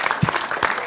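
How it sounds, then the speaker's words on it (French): Applause from a studio audience on a French cooking show, a brisk continuous patter of many clapping hands with a couple of slightly louder bursts, heard on its own. "mais oui, bien sûr, on l'applaudit bien fort."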